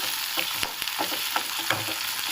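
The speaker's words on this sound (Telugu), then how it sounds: "కొంచెం దూరగా వేగనిద్దాము" Chopped green chilli frying in a pan, a dense constant sizzle with light stirring scrapes and small pops, close up and without speech.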